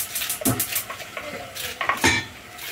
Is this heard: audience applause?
no